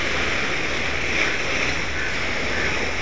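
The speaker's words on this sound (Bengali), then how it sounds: "এই ঢেউটা ঠিক মারছে" River waves wash and break near a boat, a constant rushing roar of water heard up close without clear speech.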